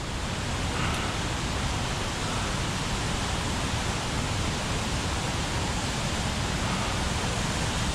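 Sturgeon River Gorge waterfall, a loud, constant broadband roar of falling water heard close by, steady and unbroken throughout with no voices.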